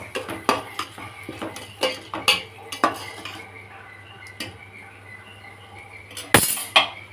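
Potato chicken curry being mixed in a pan, with a spoon clinking and scraping against the metal in irregular knocks, then a louder clatter near the end, with no voices.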